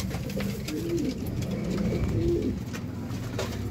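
A pigeon coos softly in low, rolling calls, repeated twice over a constant noisy background.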